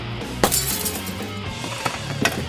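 Fluorescent light bulbs smashed onto metal pieces, a few sharp glassy pops and shattering crashes over a noisy background, with tinkling fragments between the impacts.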